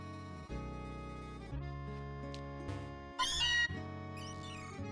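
Meowth, a cat-like Pokémon, meows in the Pokemon Infinity video game, with short synthesized meow cries over looping game music and a brighter burst of chirpy tones near the end.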